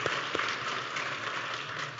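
A congregation at a Palm Sunday church service applauds the performing children, a dense, steady wash of clapping with a couple of sharper claps near the start.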